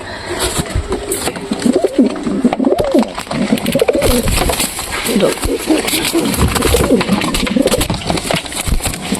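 Pigeons coo steadily in a soft, close, repeating rhythm while other birds and general background noise fill the space behind them, and a white pigeon has just been introduced as a possible mate.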